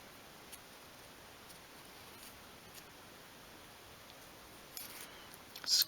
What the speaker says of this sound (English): and just snip that end off.